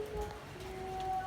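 Rain falls steadily as a soft, even patter at a tourist spot in Pujon, Malang, with a faint tonal hum running underneath and no talking.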